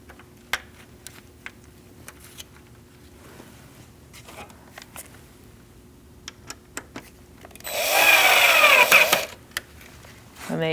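A screw is driven in with a power driver while a 2008-2014 Mercedes-Benz C300 front grille is installed, a single brief whirring burst of a few seconds after scattered light clicks and handling noises, close by.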